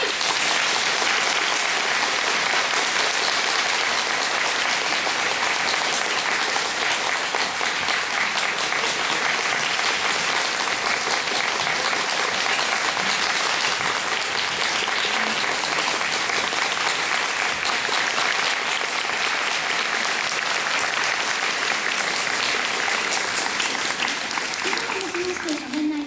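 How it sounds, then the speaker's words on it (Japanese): A packed audience at a Kamen Rider OOO film talk show claps without pause to see the cast off stage. The applause stays loud and dense and continuous the whole way through. "拍手でお送りください。"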